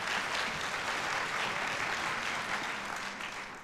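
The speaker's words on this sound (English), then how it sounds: "A round of applause would be great for that." An audience applauds at a high school winter orchestra concert in an auditorium, a dense, even wash of clapping from many people that tapers slightly toward the end.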